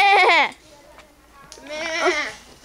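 A goat bleats twice in a farmyard, each call a loud, wavering cry with a gap of quiet between them.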